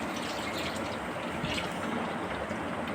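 Water being poured into potato and pointed gourd curry in a pan, a steady splashing pour that stays even and close from start to finish.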